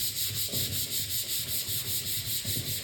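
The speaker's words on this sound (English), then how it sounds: "We just want to get a good, nice, even sanding." Sanding primer by hand with 220-grit paper on Harley-Davidson parts in an autobody shop: steady, close rhythmic rubbing strokes repeating about twice a second, continuous and fairly loud with no voices.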